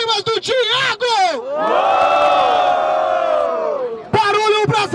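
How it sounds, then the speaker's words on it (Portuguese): A crowd at a rap battle roars and shouts for a rapper, a loud sustained wave of yelling and cheering with bursts of chanting voices at the start and end. "Barulho pras rimas do Thiago"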